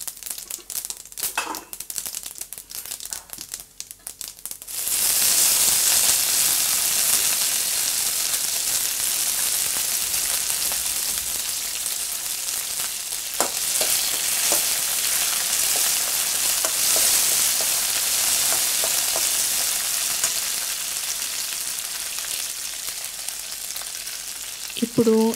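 A tempering of green chillies hits hot oil and bursts into a loud, steady sizzle after a few quiet seconds of faint clatter, then keeps hissing and spitting close by.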